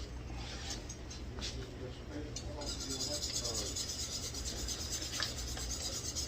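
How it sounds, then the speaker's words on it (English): Sure-Jell pectin is whisked into strawberry rhubarb jam, a quiet, continuous scraping rub of the whisk against the pot, with a voice talking briefly early on. "we need to put the surejel in. I'm going to whisk it."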